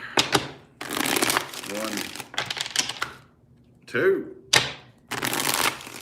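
Tarot cards are shuffled by hand in repeated crisp riffling bursts, close and loud, with brief gaps between shuffles and people talking in between.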